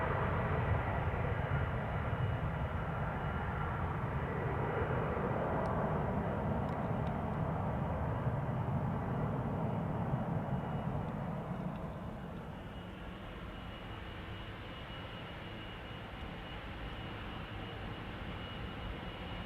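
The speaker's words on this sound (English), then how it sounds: "JetBlue just having landed on the center runway" A JetBlue airliner landing on the center runway at Amsterdam Schiphol Airport gives a loud, steady broadband roar that holds for about twelve seconds, then eases to a lower, quieter rumble as the jet rolls out.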